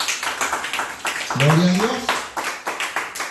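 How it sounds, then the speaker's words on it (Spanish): A church congregation claps a fast, steady rhythm in praise of Jesus while a voice calls out over the clapping. "Dale palmas a Jesús."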